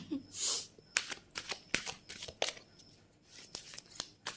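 Tarot cards are shuffled by hand in a run of quick, crisp riffling snaps and soft slides, close and fairly quiet, with irregular bursts spaced through the clip.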